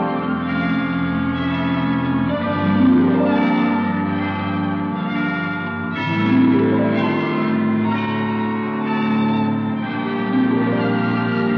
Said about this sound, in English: I didn't know the hospital had chimes.